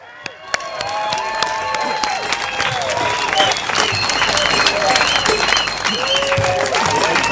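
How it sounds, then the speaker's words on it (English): A rally crowd breaks into applause for candidates standing for election, dense sustained clapping that starts abruptly and stays loud throughout, with scattered cheers and whistles rising over it. "Can we have one more round of applause for Bock"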